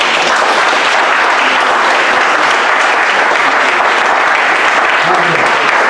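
A church congregation applauding and cheering, dense sustained clapping filling the room loudly and evenly throughout, with voices mixed into the crowd noise.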